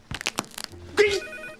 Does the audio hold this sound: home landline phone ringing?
yes